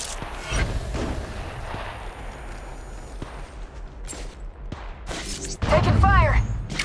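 Gunfire in the Apex Legends Mobile battle royale game, with bursts of shots and booming impacts, some near and some distant, mixed with footsteps and game sounds, and a voice speaking over part of it.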